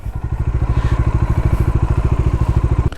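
A Bajaj Dominar 400 motorcycle engine running at idle nearby, with a loud, steady, rapid thumping pulse that holds evenly for about three seconds.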